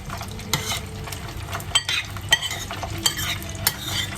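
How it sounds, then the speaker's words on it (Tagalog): Fried chicken is stirred back into sauce for Thai fried chicken, with wet scraping and clacking of a utensil in the pan over a faint sizzle, in irregular strokes, no talk. "Mix natin siya uli doon sa sauce natin."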